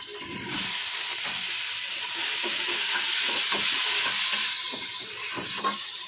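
Chicken pieces sizzle and crackle loudly in a hot pan with green peppers, a constant frying hiss with occasional stirring scrapes, close up and with no one speaking.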